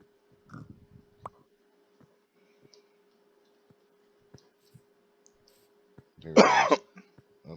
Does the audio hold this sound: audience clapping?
no